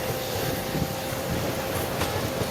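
Continuous low rumble and rattling of a moving train on the rails past Pokharni on the Parbhani–Parli line, heard from inside or nearby, steady throughout.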